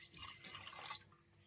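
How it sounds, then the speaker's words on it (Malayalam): Small lentils for sambar are swished and washed in water, a short, faint burst of splashing and sloshing lasting about a second before it goes quiet. "നമുക്ക് പരിപ്പ് ആദ്യം ഒന്ന് കഴുകിയെടുക്കാം."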